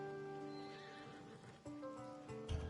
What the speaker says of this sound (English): That's a nice horse, Socrates. It's a very nice horse. A sturdy horse